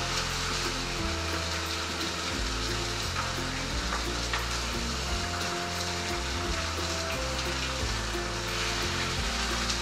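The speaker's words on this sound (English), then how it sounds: "Nothing like searing it on a cast iron grill." A sous vide chuck steak sears on a cast iron grill with a loud, continuous, close-up sizzle and crackle that stays dense and even for the whole stretch, with no talking over it.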